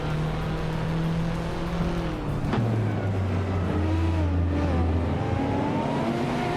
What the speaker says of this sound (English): Spikopoulos is driving a 1989 Ford Sierra R S500.